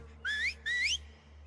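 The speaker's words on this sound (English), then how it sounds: "They whistle." Two short rising whistles from people signalling to each other in The Last of Us Part II game, clear and distinct over a faint low hum, each lasting about a third of a second.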